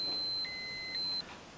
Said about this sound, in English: That should be the alarm, the door alarm.